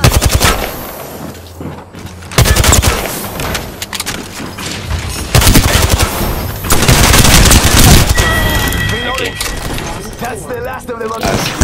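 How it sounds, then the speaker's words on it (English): Gunfire in Apex Legends: loud, close bursts of rapid automatic fire, with heavy rattling volleys in several stretches and short gaps between them, and a player talking over the action. "I'm getting shot at"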